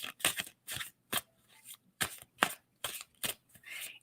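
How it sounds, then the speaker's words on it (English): Tarot cards are shuffled by hand in quick crisp bursts of riffles and slaps, about a dozen short close rustles in uneven rhythm with no talk. "tell me when to stop shuffling on that"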